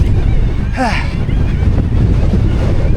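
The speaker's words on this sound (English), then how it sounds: "It's windy." Gusty wind buffets and rumbles across the microphone while mountain biking in the woods, with a short whoosh-like swoop partway through.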